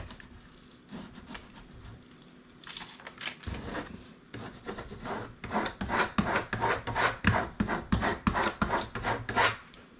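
A scraper rubs firmly over a vinyl sticker transfer in repeated short back-and-forth strokes, starting faint and sparse, then growing into a steady, close, scratchy rhythm.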